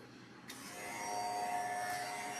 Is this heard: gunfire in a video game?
no